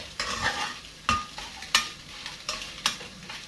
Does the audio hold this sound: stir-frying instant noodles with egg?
yes